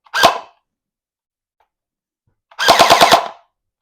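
A MrBeast Nerf Gel Fire blaster shooting gel rounds, heard as one close sharp shot followed after a pause by a fast burst of about six snappy shots.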